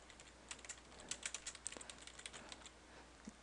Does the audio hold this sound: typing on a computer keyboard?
yes